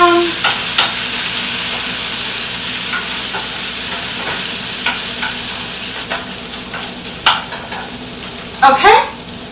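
Hot sauce being stirred into a sizzling cooking mixture in a pan: steady frying hiss with light, irregular utensil scrapes and clicks throughout, and a brief voice near the end.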